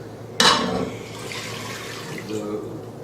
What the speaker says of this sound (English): I'll dump in 2 cups of spring water.